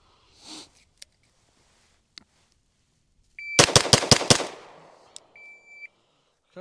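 A Staccato HD P4 pistol fires five shots in a rapid string, sharp close cracks evenly spaced under a second apart, then a brief ringing tail, a few faint clicks and a short electronic beep in otherwise quiet surroundings.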